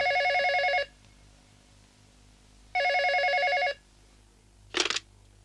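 A telephone bell rings in two long bursts separated by a pause, loud and close, followed by a short clattering click as if the receiver is lifted; no talking.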